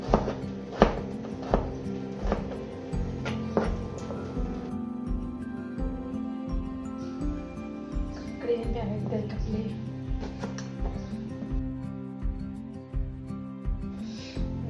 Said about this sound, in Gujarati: આવી રીતે કાપી લેવાનું. લાંબી લાંબી ચીરી.